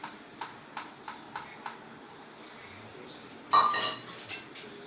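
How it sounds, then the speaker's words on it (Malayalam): Mango curry with tempered mustard seeds, onion and curry leaves stirred in a pot, giving a few light, evenly spaced clinks of a spoon followed by a louder clattering scrape near the end. "ഇതൊന്ന് ഇളക്കിയിട്ട് യോജിപ്പിച്ച് കൊടുക്കുക."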